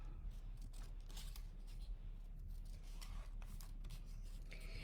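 Scissors cut out paper pieces in a steady series of soft snips and rustles, quiet and close over a low background hum.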